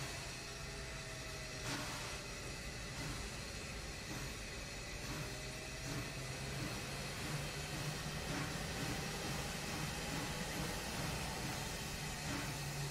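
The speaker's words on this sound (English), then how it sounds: "Let's go back up the front so I can see what this steam loco is doing." A Smokebox Challenger steam locomotive in Train Simulator hauls a long train on the Clinchfield line, a continuous rumbling rail roar with steady hissing and faint rhythmic clanks throughout.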